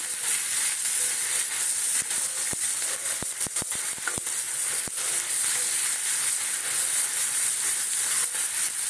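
Poppy and sesame seeds fry in a pan for a meat curry, making a steady, close hiss of sizzling throughout, with a few sharp ticks and pops in the middle as the seeds crackle.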